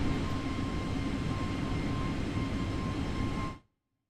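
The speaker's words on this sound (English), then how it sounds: "I'll just still get the searing sound of the outside plane." Steady, loud broadband engine roar of an Airbus A320neo heard from outside the aircraft in Microsoft Flight Simulator, with a faint constant tone running through it, holding evenly for about three and a half seconds before cutting off abruptly.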